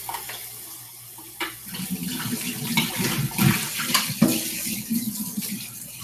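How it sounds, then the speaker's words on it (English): Tap water runs as something is rinsed out under it, a close, steady splashing stream with shifting gurgles that swells after a quieter start. "I'm just gonna rinse this out real quick"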